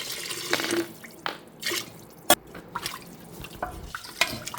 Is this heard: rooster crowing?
no